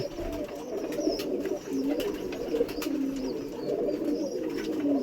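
Pigeons coo softly and continuously nearby while feeding their chicks, low rolling calls repeating under faint rustling and a few light clicks.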